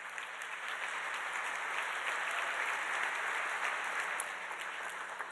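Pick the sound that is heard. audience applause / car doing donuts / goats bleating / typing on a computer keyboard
audience applause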